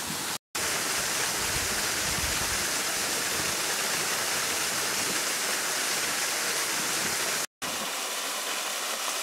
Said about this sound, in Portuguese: Que queda d'água impressionante